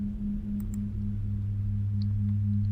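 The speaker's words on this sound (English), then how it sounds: "isochronic tones, that have certain effects on the body, the mind, and the spirit" Steady pulsing low tones used as isochronic tones for altering mind and body, a continuous electronic hum holding evenly throughout with a few faint high chirps above it.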